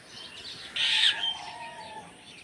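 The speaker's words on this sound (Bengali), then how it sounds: "পাখিগুলো কিভাবে মাথার উপর উড়াউড়ি করছে সকালে ওরা খুব উড়াউড়ি করে" Mynas and sparrows flying overhead on a morning rooftop, with faint chirps and one brief louder call or flutter in the middle against a soft background hum.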